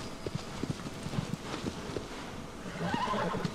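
Agro, the horse in the Shadow of the Colossus video game, trots with steady hoofbeats and gives a short whinny, fairly close, with no talking.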